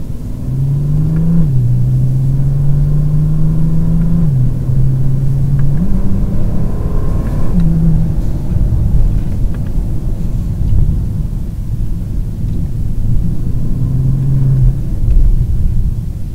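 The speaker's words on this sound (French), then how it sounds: "se balader en convoi de Bentley comme ça" A Bentley Continental GT driving in convoy with an identical car just ahead, giving a steady, loud low engine rumble with a few gear-shift changes in pitch and no voices.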